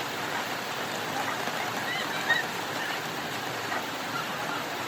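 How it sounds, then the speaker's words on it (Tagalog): Steady rain falling outdoors beside a house in the Philippines, a constant broadband hiss with no breaks, moderately loud and close, with no voices. "So habang hinihintay namin tumila ang ulan"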